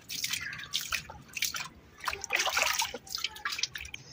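Water dripping and splashing while a clay water pot is washed outdoors in a Punjabi village, with irregular close drips and small spatters in quick succession, soft but distinct, with no talking.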